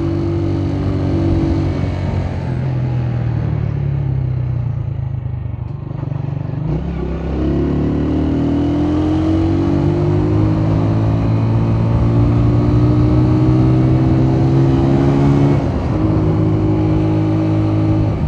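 A Honda CG 125 motorcycle is ridden on a hilly road toward Daman-e-Koh in the Margalla Hills, its engine droning close with rising and falling pitch as it shifts and accelerates, with wind noise throughout.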